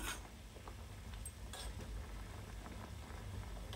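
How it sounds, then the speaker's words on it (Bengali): Beetroot water boiling in a pot for homemade hair colour, a steady close bubbling and simmering hiss with scattered pops, heard alone without talk. "এটা একটু ফোটাবো, ফুটিয়ে আরও যতটা রস আছে ততটা বের করে নেব"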